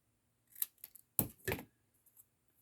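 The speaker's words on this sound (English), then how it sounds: "And cut it straight." Scissors snip through card paper while making a stamped ladybug greeting card, giving a few close, crisp cuts in quick succession with short pauses between them and no talking.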